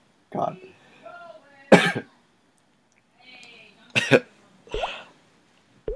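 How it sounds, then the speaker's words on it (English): Several harsh, wet coughs in short bursts with gaps between them, close and fairly loud, alongside a throat-clearing rasp. "pretty much I'm coughing up a lung"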